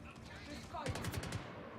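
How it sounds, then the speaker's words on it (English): Rapid gunfire aimed at the player in the space game Star Citizen, a short burst of several quick shots close by under a constant low hum. "Fucking hell, who's shooting me?"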